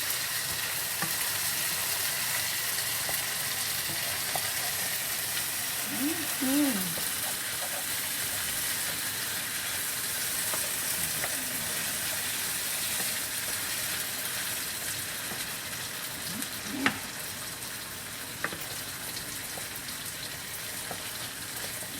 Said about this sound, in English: Gotta keep stuff from sticking to the bottom of the pan.